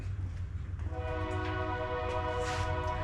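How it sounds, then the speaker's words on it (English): A train rolls past with a steady low rumble that builds, and sustained tonal horn-like bands rise over it partway through. No voices are heard. "Here comes the train."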